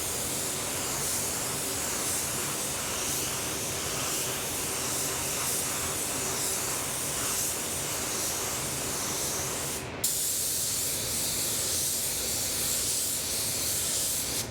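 A spray gun lays coats of Molten Merlot paint in a continuous loud, close hiss that cuts out briefly partway through before resuming just as steadily.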